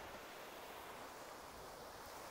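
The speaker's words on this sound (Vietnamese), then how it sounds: "Biển rất là êm, sóng gợn nhẹ thôi" Gentle sea waves wash softly onto a clean beach in Phu Yen, Vietnam, a steady, even surf hiss with no distinct breakers and no voices.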